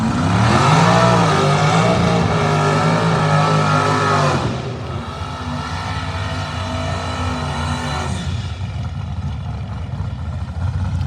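Drag race cars, including a 1968 and a second-gen Camaro, roar loudly at a no-prep grudge race, with rising engine revs that shift pitch partway through and then hold a steady drone.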